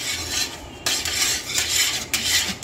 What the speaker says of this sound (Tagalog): Haluin ang haluin guys.